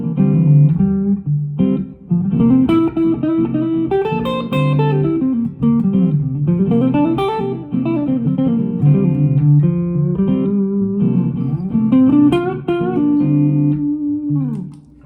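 Electric guitar plays a natural minor solo that combines several scale shapes over a repeating vamp, with flowing melodic runs rising and falling steadily above the backing for about fifteen seconds, with no talking.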